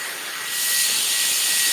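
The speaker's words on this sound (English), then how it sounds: "It's a fan. It blows out your keyboard, and it's a hair dryer." A small fan built into a battery bank blows a steady, loud airy hiss very close up, holding level throughout with no talking.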